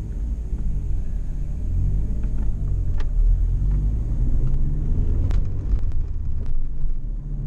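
A Ford Sierra RS Cosworth drives along with a low, steady engine rumble heard from inside the cabin, with faint clicks and creaks over the drone.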